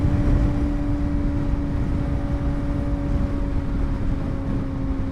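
A Kawasaki ZX4-RR motorcycle engine drones steadily while riding, a close, even hum that holds at a constant level throughout with no speech.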